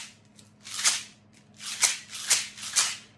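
Shakers played in quick bursts to imitate rain: four bright, hissing swishes in a row, close and fairly loud over quiet background hum.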